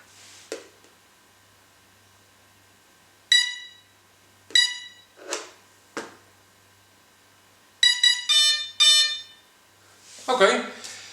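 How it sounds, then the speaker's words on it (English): RC plane electronic speed controller beeping during throttle calibration on a Hobbyking 1600mm C-47 Dakota build; several sharp, clear tonal beeps in short groups separated by silence, with brief bursts of other sound between. "you will hear 2 beeps, and after those 2 beeps you throttle all the way back to 0"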